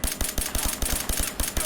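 A PP-91 Kedr submachine gun tap-fired in Fallout 4, with rapid, regular, sharp shots in quick bursts, about eight per second, loud and close with no talking.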